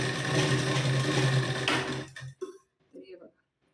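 A sewing machine stitches blouse fabric with a loud steady whir up close, then stops abruptly, followed by a few brief handling knocks and a faint voice.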